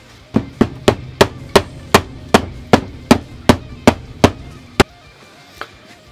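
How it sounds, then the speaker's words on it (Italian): A hammer striking a freshly glued patch during a camper roof leak repair, about thirteen sharp, evenly spaced blows in quick rhythm, close and loud, then a single faint tap after a pause. "però lo martelliamo"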